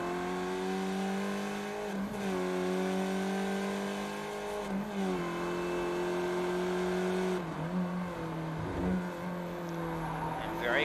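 Skip Barber open-wheel race cars lap Oulton Park, engines droning loudly and steadily through the chicane, pitch dipping and climbing as they brake and accelerate, with a commentator talking over the racing.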